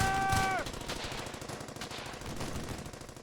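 Rapid machine-gun bursts of suppressing fire in a World War 2 infantry video game crackle steadily throughout, with brief tonal game sounds at the start.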